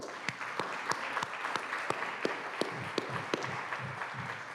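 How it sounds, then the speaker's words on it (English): Small audience clapping at an annual meeting, scattered but steady applause with distinct individual claps, fairly faint and heard alone. "I want a round of applause from everybody for your astounding generosity last year."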